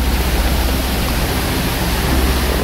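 Navlai waterfall in a forest, with cold water pouring over moss-covered rocks. It makes a loud, unbroken rushing roar that stays close and fills the whole moment with no other sounds.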